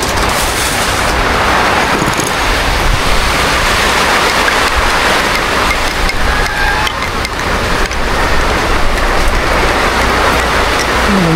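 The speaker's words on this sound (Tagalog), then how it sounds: "Malakas ang ulan." Heavy rain pours steadily during a typhoon, a dense, constant hiss and patter that stays loud and unbroken from start to finish with no voices.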